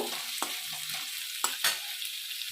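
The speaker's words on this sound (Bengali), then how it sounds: "সামান্য নুন দিলাম দিয়ে ভালো করে পেঁয়াজটা আমি ভেজে নেব" Onion frying with a pinch of salt in a pan for Bengali cabbage dhokla, a quiet steady sizzle broken by a few sharp scrapes and taps of a spatula as it is stirred.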